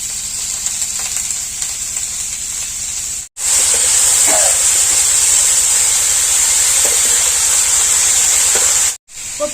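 Cauliflower sizzling steadily in a hot pan with oil, a bright continuous frying hiss with faint crackles and stirring scrapes, close and loud throughout with two brief cuts to silence.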